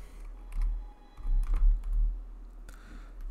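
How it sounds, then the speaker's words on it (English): Several short bursts of keystrokes on a computer keyboard as a word is typed into a search field, soft close clicks in quick clusters with short pauses between them. "Into the search field, type heading, just like this."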